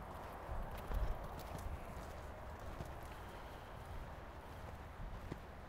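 Horse hooves clip-clopping on an arena surface during a riding lesson, a steady stream of soft, fairly distant hoofbeats over a noisy background with no clear talk.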